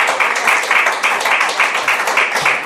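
A church congregation claps for Jesus during a service, a dense burst of rhythmic applause that carries on steadily and fairly loud.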